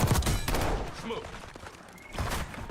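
Sniper gunfire in a combat video game, heavy bursts and thuds at the start and again near the end, with game voice lines and effects in between.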